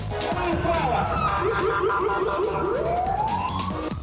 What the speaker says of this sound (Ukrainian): Поліцейський ескорт з увімкненими спецсигналами